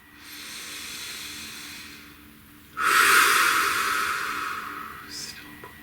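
One deep, slow breath, drawn in audibly and then released as a long, close airy rush that fades gradually, following a faint exhale.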